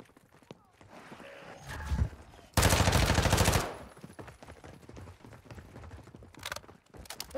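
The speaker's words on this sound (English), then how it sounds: "I just got sniped." Sniper gunfire in the video game DMZ: a loud, sustained crackling burst of shots lasting about a second, with softer game sounds and scattered noise before and after.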